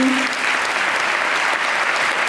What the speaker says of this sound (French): on applaudit plus fort